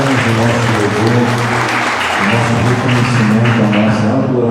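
A church congregation claps steadily through a worship service, the dense applause running the whole stretch over sustained musical tones underneath.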